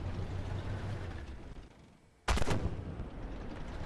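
A Challenger 1 tank's main gun fires once in the Armored Warfare game, a sharp, loud blast that cuts through steady low battle rumble after a brief lull.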